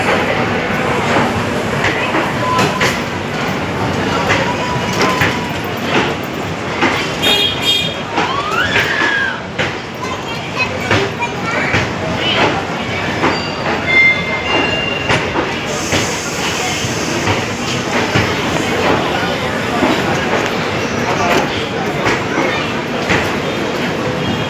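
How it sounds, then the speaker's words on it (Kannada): A passenger train from Bangalore to Arsikere pulls out of the station with a continuous rumble of wheels and carriages, close and loud, overlaid by occasional clicks, faint squeals and some talk in the background. "ಗೈಸ್ ಬೆಂಗಳೂರಿನಿಂದ ಅರಸೀಕೆರೆ ಹೋಗುವಂಥ ಪ್ಯಾಸೆಂಜರ್ ಟ್ರೈನ್ ಹೊರಡ್ತು."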